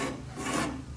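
A tool rasps steadily across a wooden floorboard for a wooden dinghy, shaping a taper and undercut bevel in one continuous close scraping stroke.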